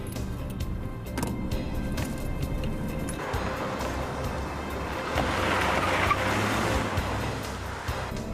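A getaway car with no number plates drives during a police pursuit, its engine and road noise a steady, fairly loud roar that swells toward the end.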